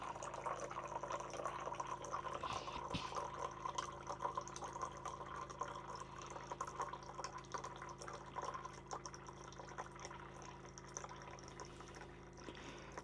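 A Frizzlife rechargeable 400-gallon dual-filtration water dispenser runs steadily, streaming filtered water into a container with a continuous hiss and faint pump hum for several seconds, no talk.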